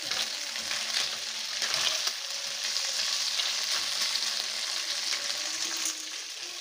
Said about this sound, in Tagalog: niluluto ko na yung aking gulay na binili na medyo mahal ang presyo. Sasahugan ko na lang siya ng kunting karne.